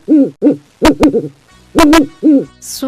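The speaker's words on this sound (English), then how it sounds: "Owl." An owl hoots in a quick series of close, loud, hollow calls, some doubled, with a brief sharp click near the end.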